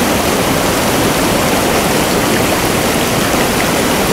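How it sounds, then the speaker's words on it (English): River water flows through Patagonian wilderness as a loud, dense, unbroken rush that stays even throughout. "Flowing down the river."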